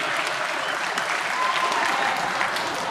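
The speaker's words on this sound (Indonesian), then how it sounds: "tepuk tangan buat Pak Camat Cibanjing Kaler, Bapak Suwardi." Dense applause from a school audience at a religious assembly, loud and even across the whole stretch with a faint voice briefly audible through it.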